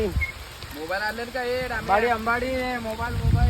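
Heavy monsoon rain falls outdoors, a dense steady hiss of drops throughout, with a voice talking over it.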